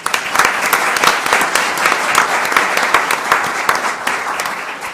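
Audience applause for a teacher nominee at a school board meeting: steady, dense clapping from a room full of people, lasting the whole five seconds and tapering slightly at the end.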